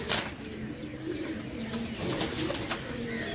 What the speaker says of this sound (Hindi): इंडियन कबूतर है जनाब।